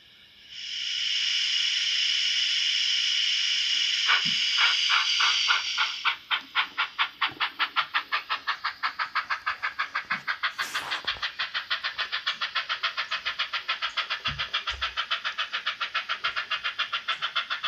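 A steady hiss of escaping steam gives way to rapid rhythmic chuffing from a small 009 model locomotive's sound module, continuing evenly with a faint whistle burst midway.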